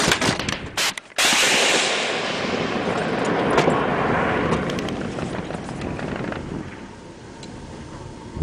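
A firefight in Afghanistan: a sharp, heavy blast opens, then a dense, loud wash of rushing noise and scattered cracks and thuds that slowly fades over several seconds.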